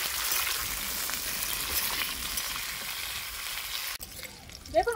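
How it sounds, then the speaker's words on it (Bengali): Bitter gourd sizzles in hot oil in a wok, a bright steady crackle for about four seconds before it quiets and a short voice cuts in. "তেলটা গরম হয়ে গেছে, আমি এবার উচ্ছেগুলো দিয়ে ভেজে নেব"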